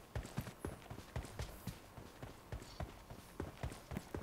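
Horse hooves from the mobile battle royale game PUBG Mobile on the Livik map, a quick, rhythmic clip-clop of a galloping horse, evenly spaced hoofbeats heard alone at moderate distance.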